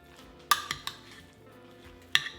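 Leftover stuffing mixed with an egg in a bowl, a few sharp utensil clinks against the bowl over soft scraping and stirring, close and quiet.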